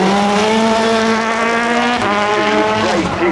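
Race car at the Goodwood Festival of Speed hill climb, a 415 horsepower V8, accelerating hard with a loud, sustained engine note that climbs in pitch and shifts briefly near the end, close and alone.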